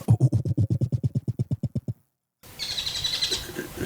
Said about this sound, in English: Sounds like the bird is imitating him.